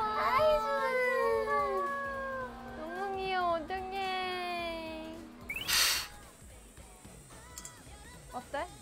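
Kittens meowing in a series of high, wavering mews during the first half, close by, followed by a brief rustle and softer sounds with people talking quietly nearby.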